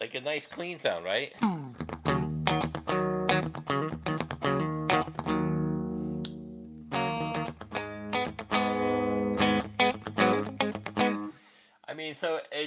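Clean electric guitar tone played through an effects unit, a run of plucked notes and chords with shimmering sustain, a voice speaking over the start and end.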